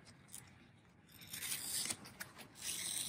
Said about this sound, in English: stick my seam ripper into the stabilizer, and cut closely around the embroidery